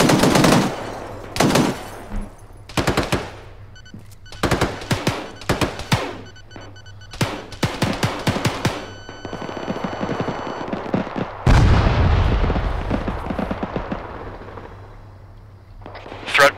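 Machine gun fire in the video game ArmA 3, with repeated loud, close bursts of rapid shots separated by short pauses, followed by a longer rumbling volley near the end.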